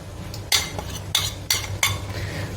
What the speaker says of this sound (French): Voilà, on va mélanger.